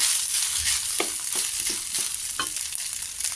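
Leftover rice frying with longganisa in a pan, a steady hissing sizzle under repeated scraping and stirring strokes from a spatula, close and fairly loud, with no talking.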